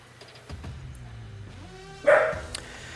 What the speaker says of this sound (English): There's Buddy the dog, dude